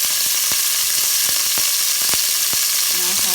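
Chili ingredients frying in hot oil give off a loud, continuous sizzle with crackling pops scattered throughout, close up and steady for a few seconds.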